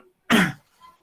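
A single short, sharp cough with throat clearing, close and loud, followed by a faint trailing breath.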